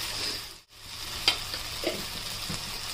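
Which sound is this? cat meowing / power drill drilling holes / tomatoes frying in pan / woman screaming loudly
tomatoes frying in pan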